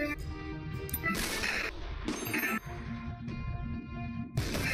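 Gunfire in a video game, several sharp shots cracking out in separate bursts over a busy background of game sound.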